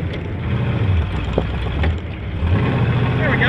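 The engine of a 1973 Super Jeep with an old transmission rumbles loudly as it shifts into third gear, a low steady drone with a brief dip at the change, while someone talks over it.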